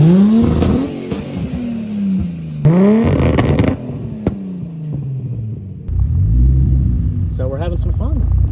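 A Nissan GT-R revs hard and accelerates in repeated rising surges, its engine note climbing then dropping between pulls, loud and close from inside the car, with a deeper rumble and brief voices toward the end.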